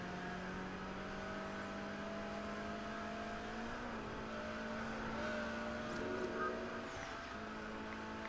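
Racing cars in the video game Test Drive Unlimited Platinum, including an Alfa racing car, give a steady engine whine with tonal harmonics that rises and shifts as the car accelerates and changes gear, moderately loud and alone without talk.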